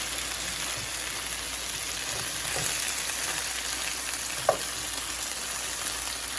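Chicken thighs, scored on each side and split open, fry in oil in a pan with a steady close sizzle and crackle, a few louder pops and a faint stir near the end, and no one speaking.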